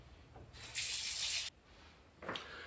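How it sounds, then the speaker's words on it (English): Tap water runs briefly over a pineapple rind, a soft splash lasting under a second, then a shorter gush a moment later against a quiet room. "Step one is to wash the rind of your pineapple."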